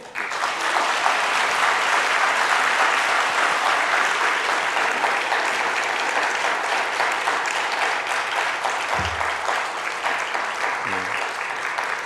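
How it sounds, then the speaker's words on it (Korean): Warm, sustained applause from a church congregation fills a Sunday worship service during an elder ordination, steady and dense for the whole stretch with no voices over it, fading only slightly toward the end. "다시 한번 뜨거운 박수로"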